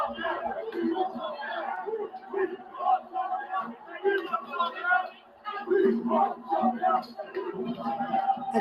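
Tommy Robinson supporters in a street, heard as a close, dense crowd of voices chattering and calling out together, continuous and busy with no pause.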